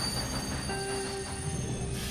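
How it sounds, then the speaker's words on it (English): Train ride in the Red Dead Redemption 2 video game: steady rumbling carriage noise with faint wheel squeal and a thin whistling tone, continuous and moderately quiet. "Take the train."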